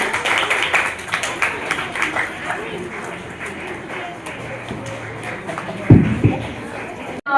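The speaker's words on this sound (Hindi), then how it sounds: "कृपया जोरदार तालियों के साथ इनका ताज़ीम कराइए" Applause from the audience at an inter-house Hindi debate competition after a speaker's turn ends, a steady wash of clapping with speech mixed in and a louder thump near the end.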